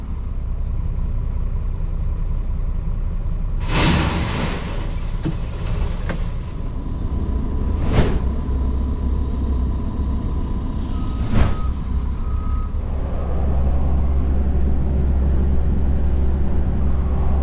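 Heavy machinery at a Cemex limestone quarry in Wiśniówka, Iłża, drives off with a steady, loud low engine rumble and rattling. Several sharp clanks and bangs cut through at intervals.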